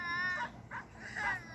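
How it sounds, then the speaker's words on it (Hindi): A baby cries in a Brain Test mobile puzzle game. Three short wailing cries, fairly faint, come in quick succession with brief gaps between them. "अब बच्चा रो रहा है"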